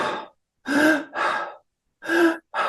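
Panting breaths drawn into the belly: loud, close, breathy exhalations in short bursts separated by brief silences, with a voiced, gasp-like quality on some breaths and no speech.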